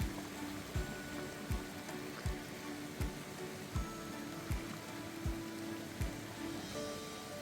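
River water rushes faintly and steadily at Lynn Glen falls in Dalry, Ayrshire, with a regular series of soft thuds repeating about every three-quarters of a second.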